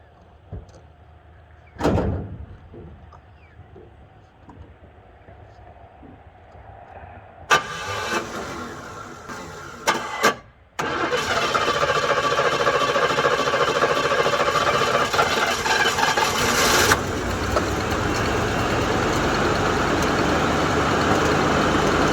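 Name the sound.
1983 Buick Riviera convertible engine starting and idling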